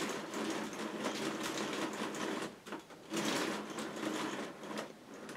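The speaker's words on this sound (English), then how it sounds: "I can start cranking this tape with that crank, and it is starting to move." A hand-cranked K'nex robot mechanism runs a tape with erase modules, giving a busy, rhythmic plastic clatter and ticking. The sound is steady with small uneven pauses and no talk.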